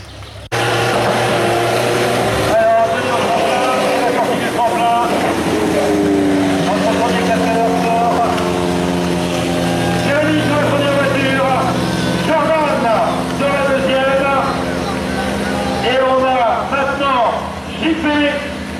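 Stunt show cars rev and drive around a track, engines roaring loud and continuous with rising and falling pitch as they accelerate; an announcer's voice over a public address carries over the engine noise.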